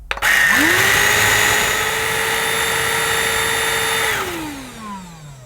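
A Shark cordless pet handheld vacuum with a rotating brush spins up quickly to a loud, steady whine with a rushing airflow hiss, holds for a few seconds close by, then winds down.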